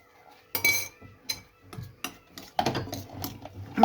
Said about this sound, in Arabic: نخلط كلشي هكايا مع بعضياتو